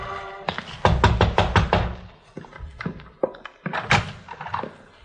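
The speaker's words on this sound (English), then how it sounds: "I walked around back and knocked on the door" Knocking on the back door of a run-down house at night: several quick bursts of firm knuckle raps, a tight cluster first, then scattered pairs and a final flurry, close and solid.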